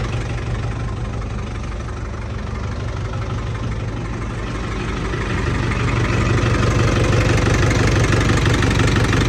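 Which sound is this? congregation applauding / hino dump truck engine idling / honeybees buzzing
hino dump truck engine idling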